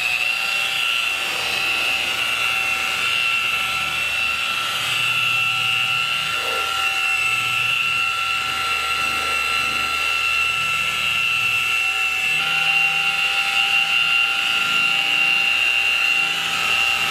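Dual-action orbital polisher buffing clearcoat on a Mazda Miata, a steady high-pitched whirring drone that runs unbroken and loud for the whole stretch with slight changes in tone.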